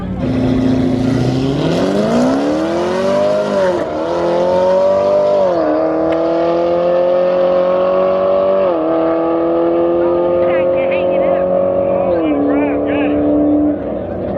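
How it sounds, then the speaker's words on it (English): A Mercedes-AMG car races on a track in a hard-tire class shootout, its engine loud and close, droning steadily with repeated gear shifts and climbing revs, while a person talks over it. "we got my buddy from high school, Jacob, right there, versus this AMG"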